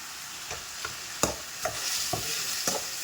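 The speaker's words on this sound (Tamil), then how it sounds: "ஸோ தக்காளி கொஞ்சம் நல்லா வதங்கட்டும்" Tomatoes sautéing in a pan for a winged bean dish with grated coconut, a steady soft sizzle broken by a handful of sharp spoon-stirring scrapes spaced through the clip, close and moderately quiet with no voices.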